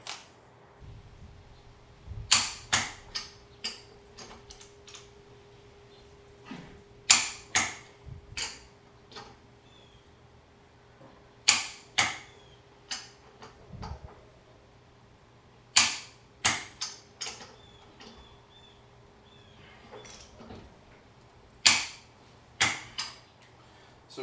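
Torque wrench tightening the rear wheel nuts on a vehicle, with sharp clicks and snaps arriving in short clusters of two to four, separated by quiet pauses and light mechanical handling noise, close and fairly loud.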